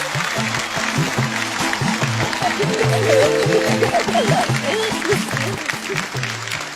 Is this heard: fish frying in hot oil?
no